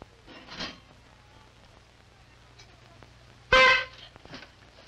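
A single loud, short car horn honk stands out over quiet background noise, preceded by a fainter, brief sound.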